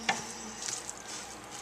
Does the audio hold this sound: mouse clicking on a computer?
no